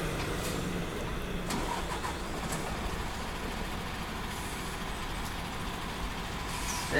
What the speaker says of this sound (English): He can brake, and what he's now doing is getting into reverse